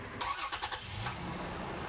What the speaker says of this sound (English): now the truck is running